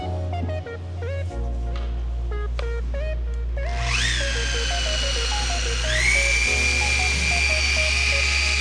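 A rotary polisher fitted with a Lake Country foam pad and a quality backing plate spins at its lowest speed with compound, giving a steady whine that rises and shifts pitch in the middle, close and continuous.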